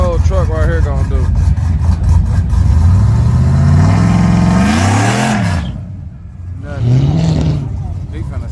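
An old truck revs hard during a short burnout, its engine note rising and falling in loud sweeping pulses before dropping off and revving again, with people talking over it outdoors.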